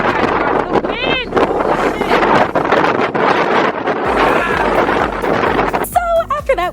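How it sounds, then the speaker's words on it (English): Strong wind buffets the microphone beside an Icelandic waterfall, a loud, steady roar of gusts and rushing noise throughout, with excited voices talking over it near the end. "Oh my God, look at the wind!"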